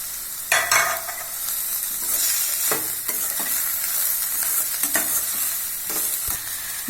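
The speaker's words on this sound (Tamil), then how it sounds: "நல்லா வெங்காயம் வதக்கணுங்க. பீன்ஸ் போட்டுக்கலாங்க" Onions and beans for a momo filling are stir-fried to a continuous close sizzle, marked by repeated quick scrapes and taps of a spatula against the pan.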